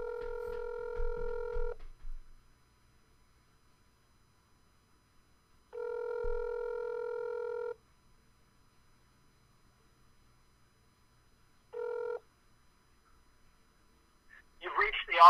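Landline phone ringback tone heard through a handset while a call to a landscape architect connects: three long, evenly spaced electronic rings separated by silence, followed by a brief burst of voice at the end.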